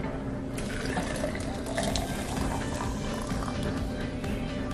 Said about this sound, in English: So let's pour the hot water in.